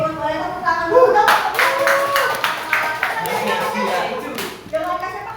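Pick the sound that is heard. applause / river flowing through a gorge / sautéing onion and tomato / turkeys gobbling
applause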